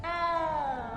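A single drawn-out cat meow in the game Hogwarts Legacy, a frightened cat inside the castle, clear and close, sliding slightly downward in pitch over about a second.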